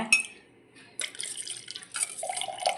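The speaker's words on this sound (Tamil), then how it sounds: "ஒரு லெமனை பிழிஞ்சு ஊற்றுறேன் உள்ள." Squeezed lemon juice trickles and drips into a glass of cool sarbath in short, light splashes: a brief burst, a pause, then a longer run of dribbling liquid, close and fairly quiet.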